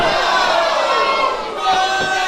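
Loud wrestling crowd roar in a video game, a steady dense wall of cheering and yelling that swells slightly louder toward the end, with no clear talk above it.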